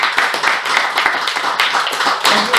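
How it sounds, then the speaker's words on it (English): Toastmasters club audience at a joint meeting giving a warm round of applause to welcome guests, steady close hand clapping from a small crowd with no talking. "Let's welcome them all with huge round of applause."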